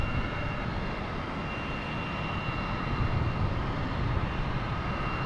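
A JetBlue jet airliner in JetBlue Vacations livery at Boston Logan Airport makes a continuous, moderately loud engine rumble and roar, steady and alone without talk.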